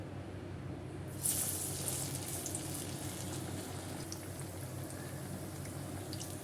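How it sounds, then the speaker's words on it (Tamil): Okra vada batter dropped into hot oil, with a steady close bubbling sizzle that flares slightly as the vada goes in, then continues evenly. "இப்போ வந்து நம்ம வடையை தட்டிக்கலாம் இந்த மாதிரி தட்டி சேர்த்துக்கலாம் எண்ணெயில்"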